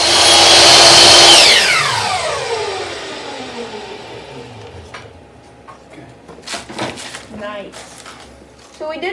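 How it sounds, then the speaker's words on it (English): A saw making miter cuts in trim pieces whines loudly at full speed, then winds down with a falling pitch over a few seconds, followed by people talking and light handling clatter. "So now we just need to measure these and miter cut them to size."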